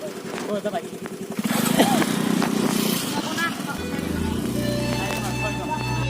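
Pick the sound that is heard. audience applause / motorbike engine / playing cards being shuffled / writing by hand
motorbike engine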